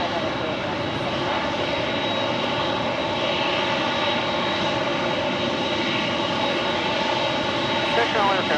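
Aircraft engines roar steadily at LAX in Los Angeles, a continuous loud drone with a thin high whine running throughout, while radio-style voices talk faintly beneath it.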